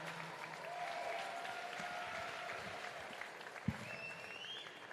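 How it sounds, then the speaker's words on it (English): Applause from the audience at a caged fight night event, a steady wash of clapping in a large hall, moderately distant and fairly faint, with crowd murmur and a few brief louder sounds. "Let's have a round of applause for all of our event partners, ladies and gentlemen."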